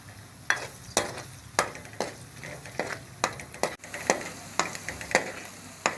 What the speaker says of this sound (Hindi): अदरक और लहसुन को 1 मिनट भूनने के बाद अब इसमें हरी मिर्च डाल लेंगे।